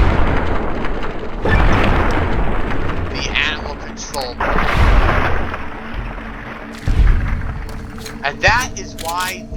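Riot shotgun blasts in the video game Fallout: New Vegas, several loud booming shots at irregular intervals mixed with game effects, with someone talking over much of it.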